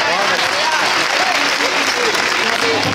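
Applause from the audience at a Nirankari children's quiz gathering in Ghaziabad, a steady dense wash of clapping for the full few seconds with voices mixed in.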